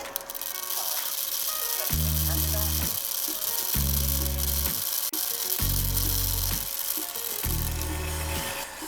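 Home coffee roaster with its fan running at a level setting of about three, a loud steady whirring drone with a buzzing motor that pulses on and off in long regular bursts.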